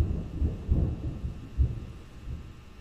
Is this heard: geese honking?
no